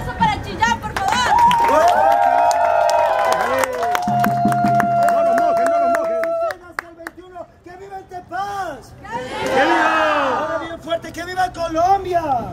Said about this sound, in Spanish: ¡Un aplauso para Chillán, por favor!